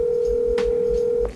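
A phone dialing, with a steady keypad tone that holds for over a second before ending in a short final beep, loud and close.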